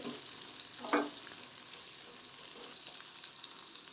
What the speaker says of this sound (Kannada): ಇದು ಮೀಡಿಯಂ ಫ್ಲೇಮಲ್ಲಿ ಸ್ವಲ್ಪ ಫ್ರೈ ಆಗಿಬಿಡಿ